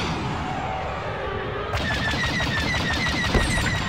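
Starfighter blaster fire in Star Wars Battlefront: a rapid, steady stream of repeated laser shots rattles out loudly and continuously over a low rumbling battle backdrop.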